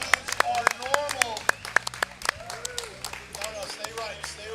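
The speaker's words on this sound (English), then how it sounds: "Let's give everybody a big round of applause" An audience at an arm wrestling event at Harley Davidson Bike Week applauds with scattered sharp claps and cheers, while an announcer talks over them.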